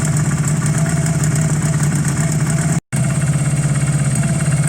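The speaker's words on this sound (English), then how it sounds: "But it's backfiring, it's popping, it's not happy." A Honda CB250 motorcycle engine, warm and backfiring, idles with a steady low rumble and rhythmic pulsing, briefly cutting out for a split second before resuming.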